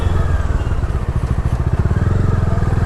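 A motorcycle taken out after sitting unused for two months runs with a steady, loud, close engine beat and a low rhythmic chug; no start-up is evident, only the running engine.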